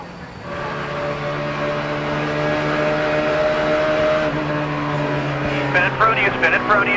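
Onboard engine drone from a NASCAR Cup Series race car, loud and steady with a sustained tonal roar that holds pitch, then choppy bursts near the end as the throttle varies.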